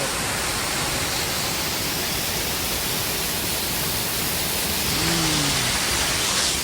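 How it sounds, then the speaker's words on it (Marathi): A small waterfall on a hillside gives a loud, steady broadband rush of falling water that fills the whole stretch without letup, with a brief faint tonal sound near the end. "कसा कसा छोटे धबधबे"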